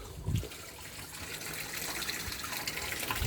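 Water gushes steadily and fairly faintly after a 4-inch valve opens on a raised koi pond, a continuous rushing flow with no voices.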